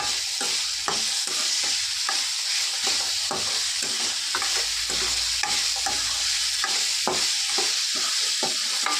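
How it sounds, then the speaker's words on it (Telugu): Rice being stirred with garam masala and chili powder in a pan on low heat: repeated rhythmic scrapes of the spoon over a constant soft sizzle, close and clear with no talking. "సిమ్లోనే పెట్టి నేను కలుపుతున్నాను"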